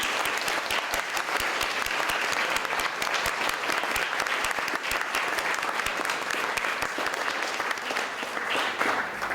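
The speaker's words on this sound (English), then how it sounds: "think we should start by giving an applause to Rui for the wonderful work he's done." Sustained applause from a large conference audience, steady and dense for the whole stretch, with no speech over it.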